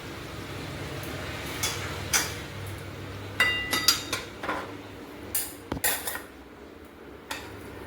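A spoon scrapes and clinks against a pan while banana curry with mung dal fritters and ghee is stirred, giving soft scattered metallic taps and knocks over a quiet background, close by and with no talk.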